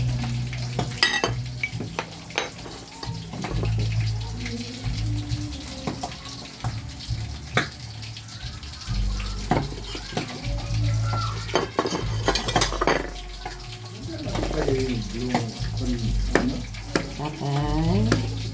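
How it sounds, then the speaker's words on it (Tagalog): Milkfish (bangus) frying in a pan, a continuous sizzle broken by repeated sharp clanks and scrapes of a utensil, with running water and faint background voices. "pinipirito po natin mga kaibigan ng ating bangus"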